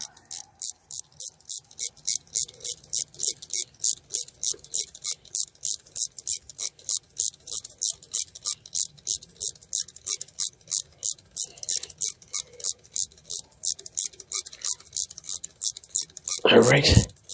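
A ratchet tightens a bolt on a valve timing solenoid of a 2.4 Chevy Equinox engine, making a close, steady run of rapid even clicks that ends in a louder clunk.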